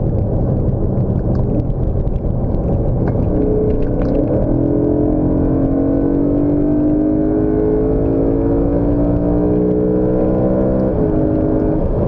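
A car engine pulls hard and steady, its pitch climbing smoothly as it accelerates, a loud close roar that dips near the end.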